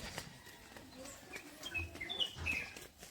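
Birds in a village among banana trees give a few faint, sharp chirps near the middle of a quiet outdoor ambience, with soft rustling and distant sounds around them.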